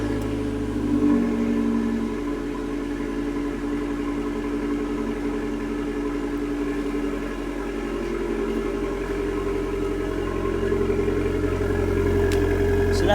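A small Abarth car engine drones steadily from inside the cabin on a road test, a continuous mid-pitched hum with slight shifts in revs and no speech.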